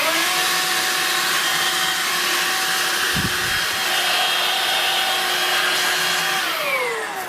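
A Vax Air Cordless Handheld H85-ACH-BD 20V vacuum cleaner runs continuously at close range, a steady loud motor whine with a brief low thump partway through, winding down slightly at the end.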